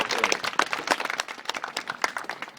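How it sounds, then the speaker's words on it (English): A small group applauds a volleyball player at a team gathering, quick irregular claps close by and moderately quiet, lasting the whole moment. "We'll give you a second round of applause"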